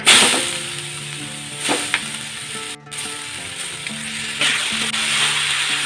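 Papaya pieces dropped into hot oil tempered with cumin and bay leaves, starting with a loud burst of sizzling that settles into steady frying with scrapes and clinks of stirring, under faint musical tones.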